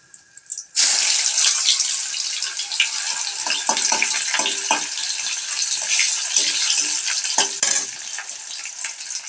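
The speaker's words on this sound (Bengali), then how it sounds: "শুকনো লঙ্কা, তারপর দিয়ে দেবো পেঁয়াজ কুচি।" Dried chillies and chopped onion hitting hot oil for a hilsa fish dish, a sudden loud sizzle bursting in after a short quiet start and frying steadily, with spoon scrapes, close by.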